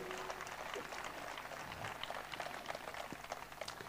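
Sustained applause from an audience greeting Bruno Gambarotta, artistic director of Sentieri e Pensieri, at a live event; a steady, dense wash of clapping that holds evenly throughout.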